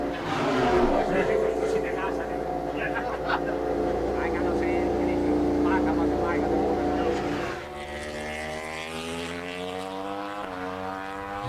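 Pedro Acosta's 300-horsepower 2024 Red Bull GASGAS Tech3 MotoGP bike drones on track under steady commentary, its engine note climbing and shifting more clearly toward the end as the machine accelerates.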